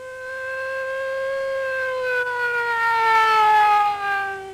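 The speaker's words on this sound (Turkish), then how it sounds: "Saat tam 11'de sirenler çalmaya başladı." Loud wailing ambulance siren racing through city streets in Ankara, a sustained rising and slowly falling tone heard close and alone throughout.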